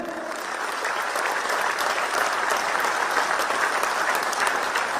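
Audience at a Delhi University event applauding officials, a sustained, even roar of clapping from a large crowd that swells slightly and holds steady throughout.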